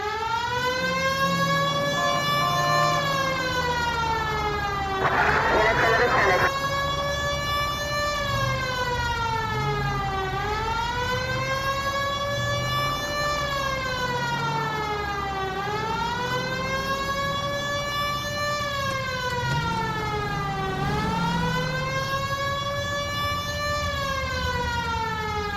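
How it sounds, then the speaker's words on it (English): A police car siren in the L.A. Noire video game wails in a steady rising-and-falling cycle, loud and continuous over an engine drone, with a brief burst of static partway through. "Hit the siren."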